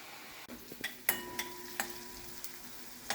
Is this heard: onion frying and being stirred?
yes